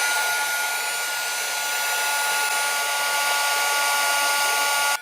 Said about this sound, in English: Let me try drying it a little bit more with the hairdryer